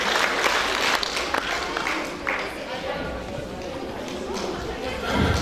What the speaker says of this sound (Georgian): აპლოდისმენტებით